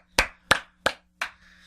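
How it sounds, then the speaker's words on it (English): Four crisp, evenly spaced claps ring out close and loud in a TV studio, each one sharp and isolated, with silence between them. "Round of applause."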